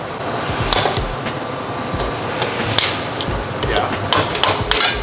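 Small hammer striking a car subframe during a Nissan 350z rack relocation and subframe replacement in a shop, several sharp metallic taps at irregular intervals over steady background noise.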